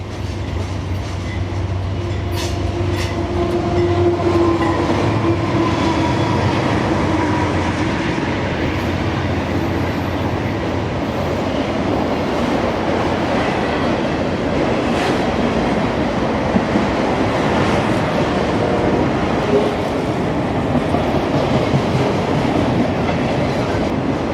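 An auto rack freight train led by a standard cab Dash 8 locomotive rolls past at a double-track main line station, a steady loud rumble of rail cars and clickety-clack wheels with engine drone early on, continuous throughout.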